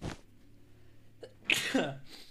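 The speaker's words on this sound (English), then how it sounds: "I'm about to sneeze." A single person's sneeze bursts out sharply near the mic, with a quick inhale and then a loud explosive release, during a Minecraft Bed Wars stream with faint background game sounds.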